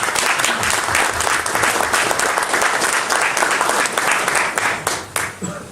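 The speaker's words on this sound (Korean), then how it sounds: "우리 크게 감사의 박수를 한번 부탁드리겠습니다" An audience at a 2013 Gyeongbuk disabled sports policy development workshop gives loud, steady applause that fills the room, with dense clapping throughout that thins out and fades over the final second.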